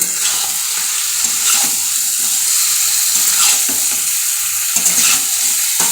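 Meat sizzles loudly in a hot pan, a constant close frying hiss with soft stirring scrapes running through it, no voices.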